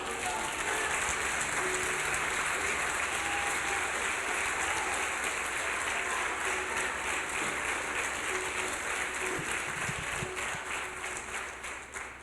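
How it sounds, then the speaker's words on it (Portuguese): A church congregation at an evening service applauds steadily for about twelve seconds, a dense, even wash of clapping that tapers slightly at the end. "Você pode aplaudir o Senhor por isso?"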